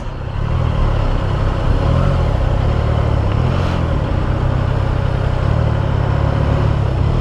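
A motorcycle engine runs steadily during a ride on a hot day, a loud continuous low drone with a faint wavering pitch and wind rush, and no voices.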